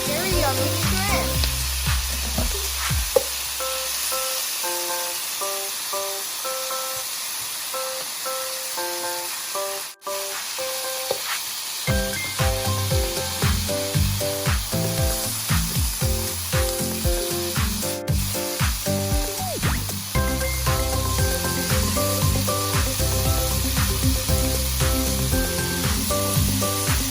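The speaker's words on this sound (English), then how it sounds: "Now we're gonna put on the shrimp." Shrimp sizzle and hiss as they sauté in a pan with chicken and chokos, a steady frying sound with intermittent clatter and music playing throughout.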